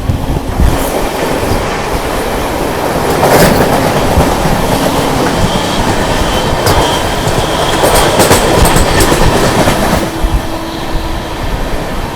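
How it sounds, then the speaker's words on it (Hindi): The Thiruvananthapuram Vande Bharat Express rushes past close by with a loud, continuous rumble, rhythmic clickety-clack over rail joints and brief metallic wheel squeals, with no voices. "चलिए सामने से आ रही है तिरुवनंतपुरम वंदे भारत एक्सप्रेस।"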